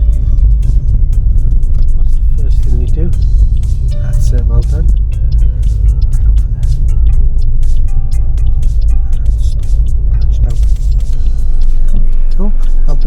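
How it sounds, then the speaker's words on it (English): A car engine idles steadily in neutral while parked during a driving test, a low continuous rumble and hum running throughout, close and prominent beneath intermittent talk. "Just now, can you leave the car on? Leave it ticking over."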